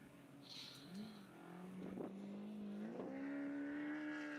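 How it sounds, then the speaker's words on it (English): An off-road UTV on the NORRA Baja rally course between San Felipe and Bahía de los Ángeles approaches with a rising engine drone that grows louder and steadier. The sound is faint at first and builds over several seconds. "sounds like a UTV coming"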